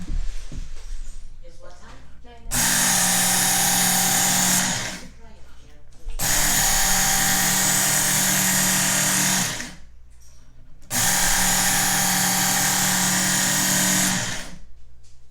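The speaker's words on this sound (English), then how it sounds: "another one that needs a good sharpening." An electric knife sharpener hums and grinds as a knife is drawn through it in three steady passes of about three to four seconds each, with quiet pauses and faint handling between.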